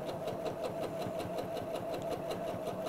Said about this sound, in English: So let's just sew around the second side